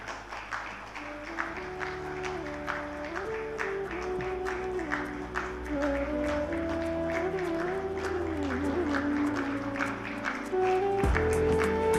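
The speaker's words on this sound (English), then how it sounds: "Huge, huge round of applause, ladies and gentlemen" An audience at a national review conference on crop insurance claps steadily for farmers, dense applause sustained throughout with music playing underneath.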